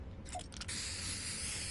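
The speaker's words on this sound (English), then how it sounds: "I can throw up some spray paint" A spray paint can hisses in the Fortnite video game, a few short bursts followed by one long continuous spray of graffiti, fairly close and alone.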